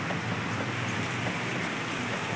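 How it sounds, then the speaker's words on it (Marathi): Heavy rain falls steadily at home during the monsoon, a constant, even hiss of drops with no breaks and no voices. "आमच्या इकडे खूप पाऊस चालू आहे"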